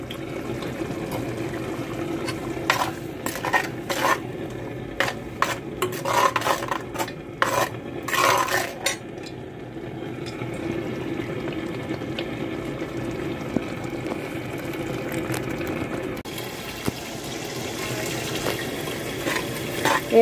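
Curry leaves and green chillies fry in oil in a clay pot, a soft crackling sizzle with brief clustered spatters and scraping stirs, close and fairly quiet, with no talking.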